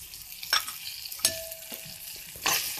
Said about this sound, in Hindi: हिलाते रहिए जब तक ये हल्की हल्की भुन नहीं जाती